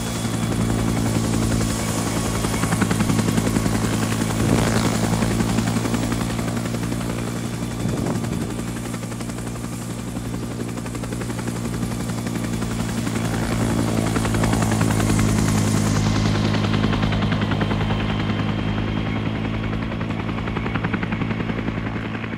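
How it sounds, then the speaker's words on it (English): A helicopter flying, a loud steady rotor drone with pulsing blade chop that continues throughout, near and unbroken, with no talking. "The helicopter?"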